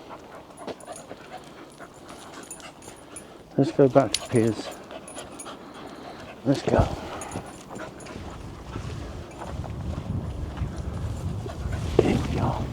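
A dog panting and whimpering near an old mine engine house, with soft whines and breathy panting mixed with footsteps and rustling while people talk close by.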